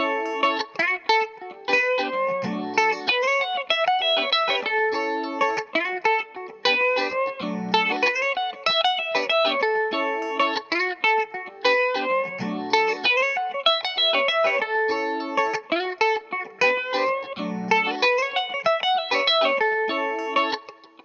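An electric guitar plays a lead lick through effects with distortion and chorus over a backing groove, a busy run of notes repeated several times at a steady, loud level with no talking.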